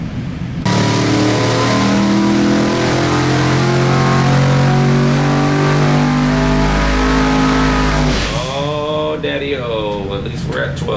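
A flex fuel car on a dyno with a new ECU, engine revving loud and sustained at high RPM for several seconds, then dropping off as voices talk over the fading engine.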